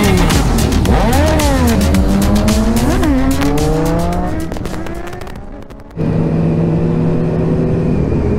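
Motorcycle engine, a Triumph on a May Day bikers' run to Hastings, revving loudly up and down close by, with rising and falling pitch, a brief dip and then steady running as it rides on.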